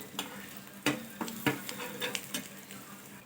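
Garam masala is stirred through egg manchurian in a hot pan, with repeated close scraping strokes from a spoon over a soft sizzle. The strokes come at an uneven pace, and no one talks.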